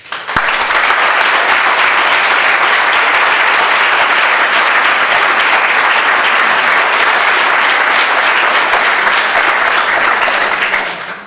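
Sustained applause from a large audience, loud and dense throughout, with no talking over it.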